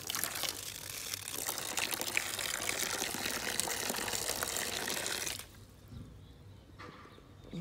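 Discoloured drinking water gushes from a van tap into a bowl, a steady close hissing splash for about five seconds before the flow stops abruptly, leaving quiet background.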